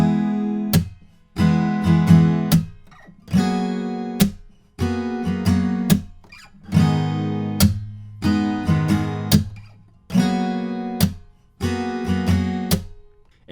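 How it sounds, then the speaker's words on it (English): Acoustic guitar with a capo strummed in a repeating down, slap, up, up, down, slap pattern, crisp percussive slaps punctuating bright chords in a steady rhythm, played solo and close with no talking. "we're going to use that strumming pattern I taught earlier, which goes down, slap, up, up, down, slap"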